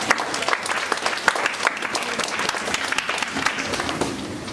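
A church congregation applauds and cheers to acclaim Jesus Christ of Nazareth during a Sunday morning service, with dense, sustained clapping from many hands, close and loud throughout, with no voice rising above it.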